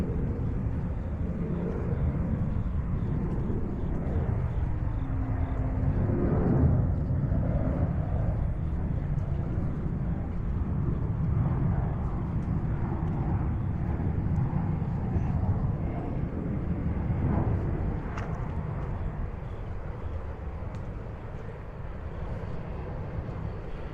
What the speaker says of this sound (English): If you're wondering what that noise is, that's a plane taking off